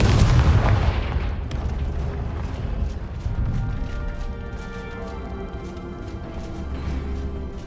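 Fire spell explosion cast in the game Hogwarts Legacy: a heavy booming blast at the start, then a rumbling, crackling tail fading over several seconds, with no talk.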